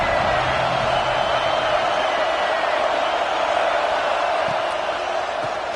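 A stadium crowd roars steadily at an Auburn game in College Football 26, a dense, loud and unbroken wash of cheering that holds level throughout.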